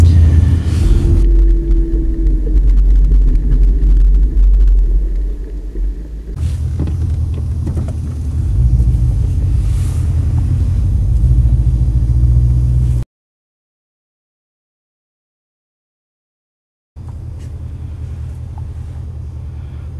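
A car engine idles and runs with a steady low rumble, loud and close, cutting off abruptly partway through before resuming after a few seconds of silence.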